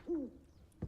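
An owl in the Hogwarts Legacy video game gives a single soft, low hoot with a falling tail, faint and alone, followed by a brief muffled knock.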